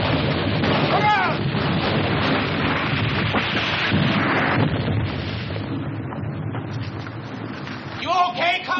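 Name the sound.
artillery fire in a war film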